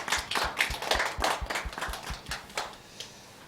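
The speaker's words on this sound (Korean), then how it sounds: "우리에게 은혜 주신 하나님께 영광의 박수 올려드리겠습니다." A church congregation claps together at a New Year Sunday worship service, a dense run of steady hand claps close by that thins out toward the end, with no talking over it.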